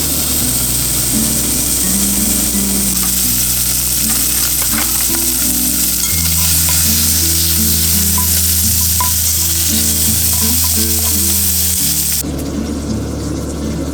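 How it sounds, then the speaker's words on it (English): Pork fat renders in a pan at a winter camp on Lake Nipissing, a loud continuous sizzle and crackle running throughout over a steady tonal hum, with no talking. "That fat's got a lot of flavor. I'll let that render out a bit."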